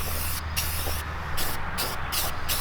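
Aerosol spray can hissing paint onto a mini bike part in several bursts, with short pauses between passes; steady, close and fairly loud, no talking.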